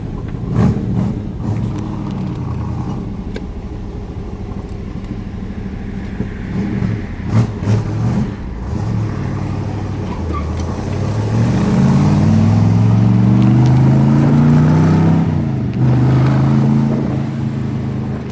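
A 1964 Chevrolet Corvette roadster with its original 327 V8 idles with a lumpy burble, then revs up in rising pulls that swell loud and close before settling back.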